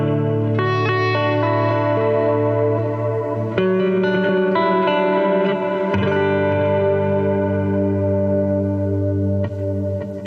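A clean electric guitar through a ToneX model of a 1964 hand-wired Princeton Reverb rings out chords and notes with a warm, full low end and a touch of shimmering effect, sustained and loud.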